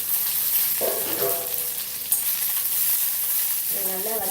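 Onions and curry leaves frying in hot oil with green chilies going in for tomato rice, a steady close sizzle with brief stirring clatter, no talk.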